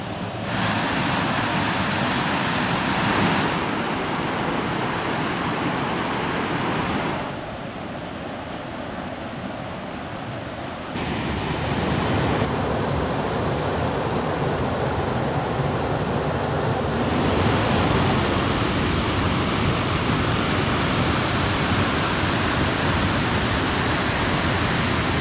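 A waterfall pours in a continuous broadband roar, loud and close, with the rush shifting in level several times as the microphone moves near and away from the falling water.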